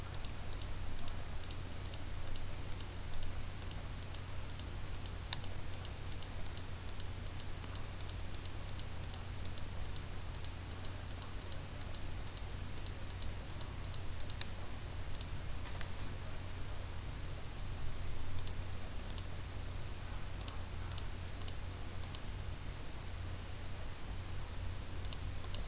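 Rapid, evenly spaced computer mouse clicks while building a level in Game Maker, a long run of sharp close ticks that thins out midway, then resumes in scattered bursts.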